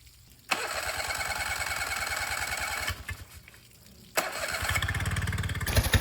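Yamaha engine fitted with a new aftermarket Amazon carburetor, idle mixture screw set 1 1/2 turns out, idling with a steady rapid low putter that starts, drops off briefly, then picks back up and revs slightly at the end.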